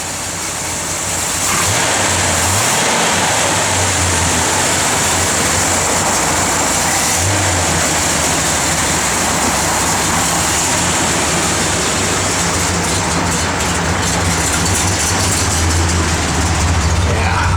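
A 1969 Dodge Super Bee with a largely stock rebuilt engine running on pump gas while driving, producing a loud, continuous rumble with a strong low drone that swells now and then.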